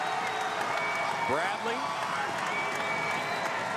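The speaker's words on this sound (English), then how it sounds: "crowd getting loud." A loud crowd roars at the NAIA men's basketball national championship game between Lewis Clark State and Montana Tech, a steady dense swell of cheering and applause with sneaker squeaks, under an announcer's play-by-play.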